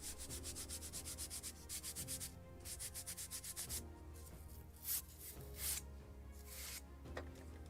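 Scotch-Brite pad rubs the wooden ceiling planking of a 1776 gunboat Philadelphia model ship kit in close, rhythmic back-and-forth strokes, a dry scratchy swishing that pauses briefly and then resumes.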